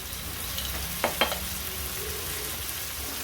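Minced chicken frying with coriander and garam masala in a pan, a steady even sizzle close by with a couple of brief utensil clinks partway through.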